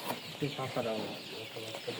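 Sonali chickens about 23 days old cluck softly in a poultry shed, with a steady low flock murmur under nearby talking.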